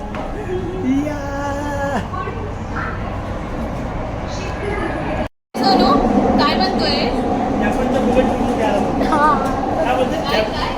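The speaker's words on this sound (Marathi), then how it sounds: "एक्वालाईन थ्री वरली ते डिकेसी पर्यंत आपण प्रवास करत आहोत" A Mumbai Aqua Line 3 underground metro train runs between Worli and DKC with a steady, loud rumble while people talk over it, broken by a brief moment of silence midway.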